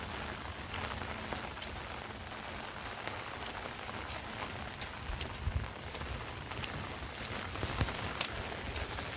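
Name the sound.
rain falling in a farm field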